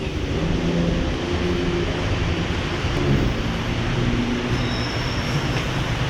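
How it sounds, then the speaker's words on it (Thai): A continuous low rumble and rattle of a subway train moving along, with a steady roar and faint screeching overtones, loud and close throughout. "อันนั้นแน่เลยรถไฟใต้ดิน"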